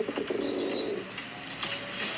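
Pigeons at a Christmas Eve bird toss give a soft low coo at the start, with a repeated bright high chirping pulsing steadily throughout at close range.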